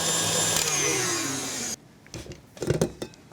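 Stand mixer whisking cake or biscuit batter runs loud and steady with a high whine, then cuts off abruptly, leaving faint clatter and handling noises in a pastry kitchen.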